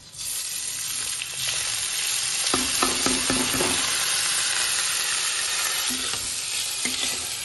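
Soaked, drained rice fries in ghee with bay leaf and whole spices, a steady sizzle broken by repeated scraping stir strokes from a spatula against the pan.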